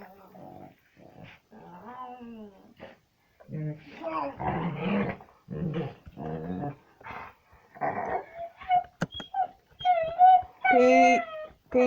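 A dog growls and whimpers in close, uneven bursts, rising from low snarls to high whining cries, with short gaps of silence between the outbursts.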